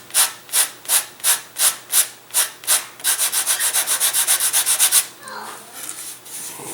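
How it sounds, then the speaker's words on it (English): A taper sanded into a wooden chuck glider gives rhythmic rubbing strokes, first slow and even, then quicker and denser, before easing into a softer continuous scuff, close and alone. "So all I'm doing is I'm sanding my taper in this."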